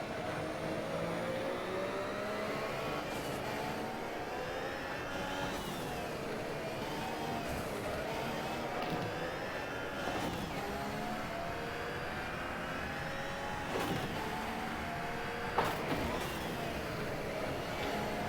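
Group C race car in the Automobilista racing game, its engine droning continuously with revs climbing and dropping through gear shifts, steady and moderately loud throughout with no talk.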